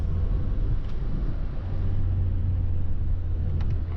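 Renault Super 5 TL with a 1.4 engine driving with the choke still pulled, a steady low engine rumble and road drone heard from inside the car, no voices.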